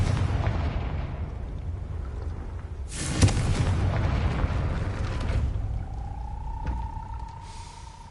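A Confringo fire-blast spell explodes in the Hogwarts Legacy video game: a sharp, loud burst about three seconds in rises over a steady low rumble. A softer whoosh and a thin sustained tone follow near the end.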